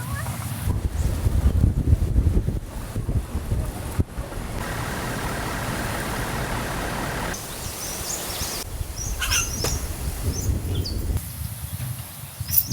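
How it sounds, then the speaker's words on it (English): Gusty wind rumbling across the microphone in bursts at Esperance, Australia, loud at first then easing, with faint talk and distant outdoor ambience. "It's a bit windy up there."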